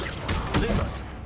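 A Depulso pushing spell lands in Hogwarts Legacy with a quick pair of dull, forceful thumps, close and fairly loud, lasting barely a second over a steady game backdrop.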